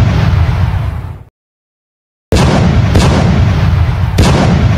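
Heavy gunfire in a battle booms out loud, with a sustained blast that cuts to silence, then several more sharp shots cracking in quick succession over a continuous roar.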